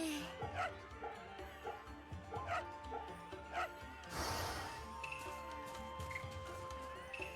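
A dog in the video game Fate/Samurai Remnant gives soft repeated yips and whimpering barks in short bursts, moderately close, over a quiet game backdrop with faint mechanical tones.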